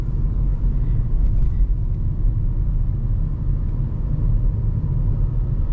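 A 2026 VW Taigun GT Line's engine hums as a steady low rumble while driving on light, part throttle through the city, even and unbroken with no voices.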